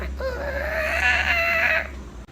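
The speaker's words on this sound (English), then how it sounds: "it's the devil cat. Can you hear it? Oh my god, it's doing it. It's making the sound." A loud, drawn-out animal wail that rises and wavers for over a second, close by, resembling a strange yowl or crow.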